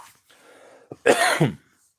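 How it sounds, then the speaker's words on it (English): A faint throat sound, then a short pause and one loud, harsh cough up close. "Expect a lot of coughing."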